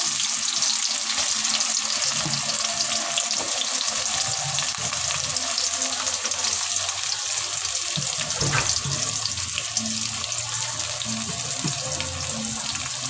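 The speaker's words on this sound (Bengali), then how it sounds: "তো এখন তেলটা গরম হয়ে গেছে, আমি পেঁয়াজ কুচিগুলো দিয়ে দিচ্ছি।" Chopped onions hit hot oil in a pan and fry with a loud, continuous crackling sizzle, with occasional stirring clatter and light thumps throughout.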